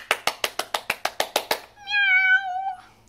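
A human voice imitates a cat with a drawn-out meow, preceded by a quick run of about ten evenly spaced hand claps, close and clear.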